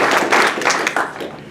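Applause at a candidate forum for a U.S. House district race, a dense wash of many hands clapping at once that holds steady and fairly loud through the short stretch, with no voices rising above it.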